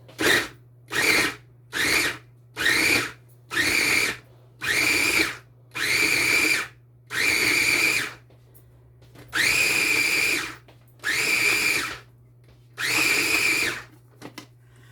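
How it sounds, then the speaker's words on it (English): A KitchenAid appliance whizzes two diced slices of bread into fresh breadcrumbs in a kitchen, running in about eleven short, loud pulses of roughly half a second to a second each, separated by brief pauses, with no talking. "So I have my handy dandy little KitchenAid mixer that's gonna whiz, whiz, whiz."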